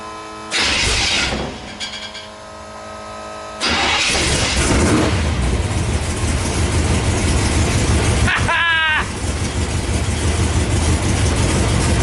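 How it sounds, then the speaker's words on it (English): A truck's electric fuel pump and accessories switched on in an off-road wrecker build, a steady loud mechanical hum and whir that cuts in and runs on, with a brief squealing sweep and someone talking over it. "Turn accessory. Fuel pump's on. Accessories on."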